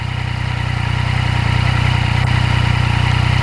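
A 2020 Yamaha MT-09 motorcycle engine runs steadily at a low, even pitch during a ride in the rain. The drone holds constant and loud throughout, with a hiss from the wet road and wind layered over it and no voices.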